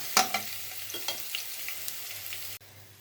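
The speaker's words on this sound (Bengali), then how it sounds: "ভালো করে ভেজে নেব।" Spices frying in a pan with a soft, steady sizzle, a few louder crackles and stirring scrapes near the start, fairly quiet and close, ending abruptly.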